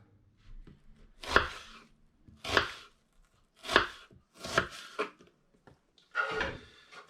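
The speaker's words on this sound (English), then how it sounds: "Now I'm going to chop my onions." A knife chops onions on a board in a home kitchen while a chicken and mango curry is prepared: five or six crisp, fairly loud cuts in an uneven rhythm, close by, with no talking.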